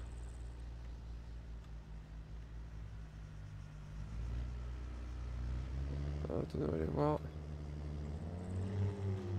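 Rally cars at a car-meet event in the Arma video game rumble low and steady in the background, their engine noise running under French conversation throughout.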